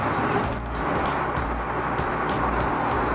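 A Porsche engine hums steadily while driving in Hong Kong, heard close up with road rumble and intermittent bursts of higher noise.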